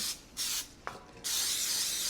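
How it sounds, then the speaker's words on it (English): Hissing bursts of an aerosol non-stick cooking spray onto a 9x5 loaf pan: two short sprays, a small clink, then one longer continuous spray, close and clear. "I'll spray a 9x5 loaf pan with cooking spray"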